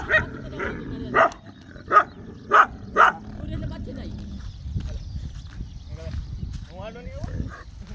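Dogs bark in a village in Gujarat, five sharp, loud barks in a row followed by quieter background noise and faint distant sounds.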